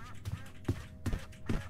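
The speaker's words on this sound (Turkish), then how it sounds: "Ördek sesleri geliyor Cansu" Ducks quacking in the video game Doors, three or four nasal quacks at an even pace, faint and fairly near, with no one talking over them.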